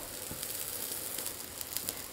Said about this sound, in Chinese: 烙至底部金黄，我们给它翻面。